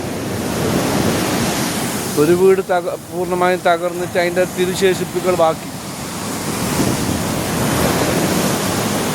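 Rough surf pounds the shore during a sea surge at Chembarikka Kallamvalappu, a broad steady roar of waves and wind throughout, with someone talking over it in the middle.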